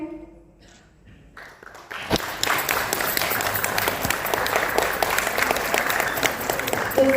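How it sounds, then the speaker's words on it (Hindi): Applause breaks out at a Hindi Day celebration in Abu Dhabi to welcome guests. After a quieter opening with a tone, a crowd's clapping starts with a sharp onset and continues loud and sustained. "जोरदार तालियों से अपने मेहमानों का अभिनंदन करेंगे।"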